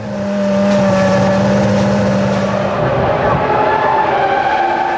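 A 2002 Formula One McLaren running on a shredded, delaminated Michelin tyre: a loud, close engine drone holds steady with a whining tone that shifts pitch as the car passes, mixed with rough flapping noise.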